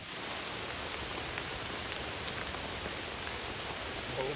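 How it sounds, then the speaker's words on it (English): Heavy rain pours steadily onto a tent at a campsite in the aftermath of Hurricane Beryl, a dense, constant hiss of drops drumming close by with no talk. "The rain is now starting to pick up."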